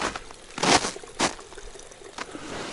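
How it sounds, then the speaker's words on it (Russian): A small babbling stream trickles through overcast, snowy taiga forest, with gurgling pours and bursts of splashing close by and no voices. "а тут ручей как-то курлычит"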